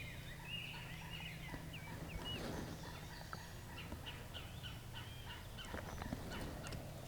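A wild turkey longbeard in a Wisconsin field gobbles repeatedly, its calls ringing out at moderate distance over a steady outdoor background with other bird chirps.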